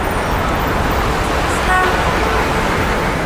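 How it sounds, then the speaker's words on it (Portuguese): Loud, dense road traffic as many cars pull away at once, a constant roar of engines with a brief car horn toot rising out of the rumble. "Isso acontece quando todos os carros saem ao mesmo tempo"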